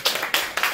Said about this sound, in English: That round of applause is going in the video.